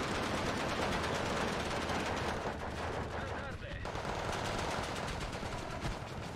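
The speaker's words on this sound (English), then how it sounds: "All the machine guns firing away here." Sustained machine-gun fire rattles in a dense, continuous barrage of rapid bursts during a battle in the video game Steel Division 2.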